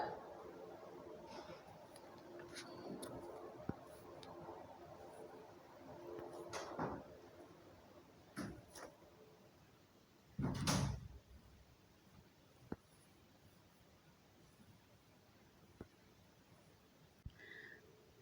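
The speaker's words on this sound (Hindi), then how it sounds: "ये दरवाज़ा बंद कर देना प्लीज़," A door being shut in a classroom, a single thud about two thirds of the way through, heard over room noise and sparse talk.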